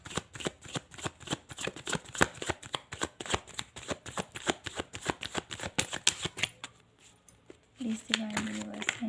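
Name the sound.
tarot cards being shuffled and drawn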